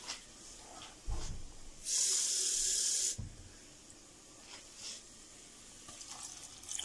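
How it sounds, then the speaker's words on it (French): A glass of water poured into a hot pan of lentil risotto sets off a loud burst of hissing spray and sizzle that fades to a quieter simmer with light stirring. "On va venir rajouter un verre d'eau."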